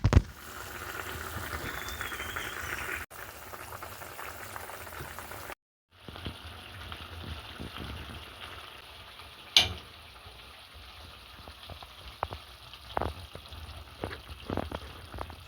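Rupchanda fish curry with potatoes and peas simmering in a pan, a steady bubbling, sizzling wash with a brief break partway and scattered louder pops, close and alone without talk.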